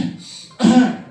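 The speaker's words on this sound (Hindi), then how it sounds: "नाक से हवा अंदर खींचे और मुंह से खांसी करे" A breath drawn in through the nose, followed by one forceful cough close to the listener.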